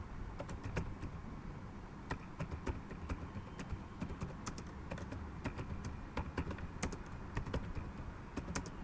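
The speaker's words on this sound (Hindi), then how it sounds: "तो आपको टाइप करना पड़ेगा" Typing on a computer keyboard during accounting data entry, a continuous patter of fast, irregular key clicks close by with a low room hum and no talking.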